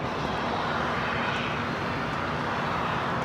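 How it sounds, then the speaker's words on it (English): Airbus A380 airliners taxiing toward the international gates at LAX, a steady loud broadband jet engine roar with no breaks, heard from nearby on the airfield. "you got two A380s rushing to the international gates"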